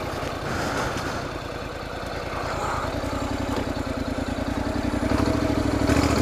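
A 2014 Honda NC700XD DCT automatic motorcycle ridden off-road near Cohutta and Chatsworth, its engine thrumming steadily with a rapid pulsing beat that grows slightly louder and stronger toward the end, accompanied by faint clatter.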